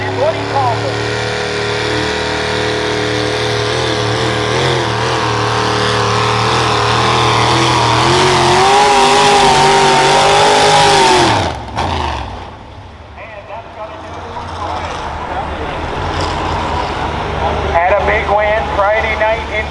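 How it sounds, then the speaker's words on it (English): Ford F-150 two-wheel-drive pickup at a truck and tractor pull at the Hartford Fair, engine roaring loud and climbing in pitch under an announcer, then cutting off abruptly before idling back up faintly. "Bill Stake on the Ford F-150 coming up"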